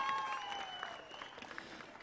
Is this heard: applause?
yes